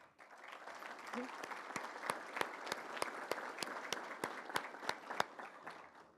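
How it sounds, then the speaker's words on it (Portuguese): Audience applause at a formal church-related honor ceremony, a sustained wash of many hands clapping with a few sharp, louder claps standing out near the microphone. "Uma salva de palmas"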